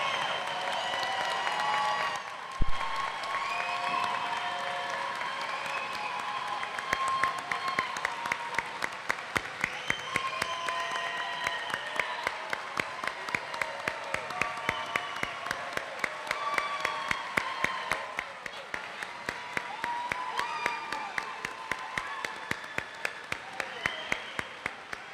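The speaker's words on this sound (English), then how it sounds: "Please join me in offering a round of applause for all graduates" Sustained audience applause for the graduates at the 2025 LaGrange College commencement ceremony, a broad, steady roar of many hands lasting well over twenty seconds, with sharp, regularly spaced claps standing out through its later part.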